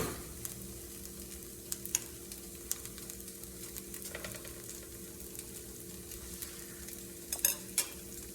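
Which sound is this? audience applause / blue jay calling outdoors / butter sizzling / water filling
butter sizzling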